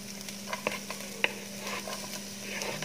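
Chopped onion sautés in hot olive oil in a pan, a soft, steady sizzle broken by scattered pops and light stirring clicks, fairly quiet with no talk over it.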